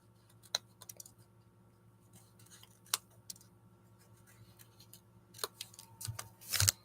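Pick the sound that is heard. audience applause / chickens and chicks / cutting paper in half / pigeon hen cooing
cutting paper in half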